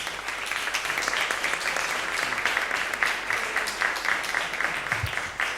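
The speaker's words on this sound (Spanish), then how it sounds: "Un aplauso." An audience at a book presentation applauds steadily for several seconds, a thick, even wash of many hands clapping with no break.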